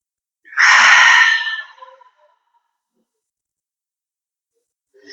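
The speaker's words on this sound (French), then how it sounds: "Inspire longuement par le nez" One long, deep breath is drawn in through the nose, a breathy rush lasting over a second that fades away into near silence.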